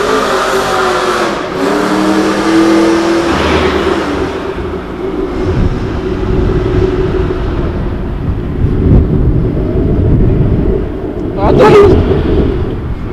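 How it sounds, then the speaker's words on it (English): A car engine revs loudly at a car meet featuring JDM cars, a cammed G8 and drift cars, a rough throaty roar swelling and falling close by while people talk nearby throughout. "Revving."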